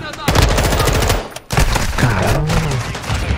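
Rapid, loud shotgun blasts in Call of Duty MW2, fired one after another like a machine gun, with a short break partway through and game sounds layered underneath.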